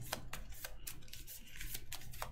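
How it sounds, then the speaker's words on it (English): Cards from a Marvel Champions deck being shuffled by hand, a series of quick crisp riffling bursts repeating at a steady rhythm over a low background hum, close and fairly quiet. "I'm going to shuffle."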